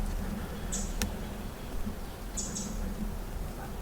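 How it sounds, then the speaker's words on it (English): Two short bird chirps, high and faint, about two seconds apart, over a steady low rumble of distant traffic on a small two-lane highway about a mile away. "I can hear some birds now"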